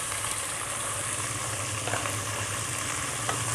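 Chicken pieces fry in a karahi for a white karahi, giving a steady, close sizzle of hot oil that runs evenly throughout, with faint stirring clinks.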